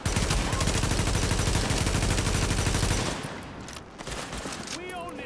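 Rapid automatic gunfire from The Division, a loud, dense stream of rattling shots that stops abruptly partway through, followed by quieter game ambience and sporadic effects.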